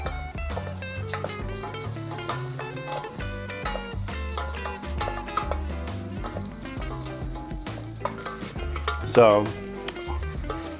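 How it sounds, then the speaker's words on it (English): Rice toasting in a pan, a steady soft sizzle and occasional stirring scrapes sitting under busy background music throughout. "From here, we are going to add our rice. We are going to let that toast."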